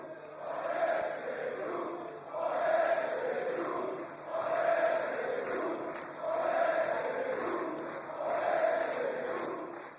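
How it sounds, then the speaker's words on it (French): A whole hall of people chanting a political slogan in unison, repeating it in rhythmic swells about every two seconds, sounding somewhat distant and reverberant. "une salle entière qui scande « On est chez nous »"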